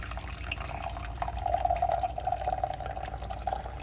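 Hot water pours steadily into a cup for brewing yellow tea, a thin continuous trickling stream for several seconds.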